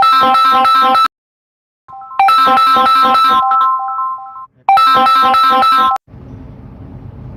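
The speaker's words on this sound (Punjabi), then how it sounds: "ਆਪਣੇ ਆਪ ਵਿੱਚ ਫੋਨ ਆ ਗਿਆ ਜ਼ਰੂਰੀ" A mobile phone rings with an incoming call, loud melodic ringtone bursts repeating with short silent gaps, then cutting off abruptly into a low, muffled noise.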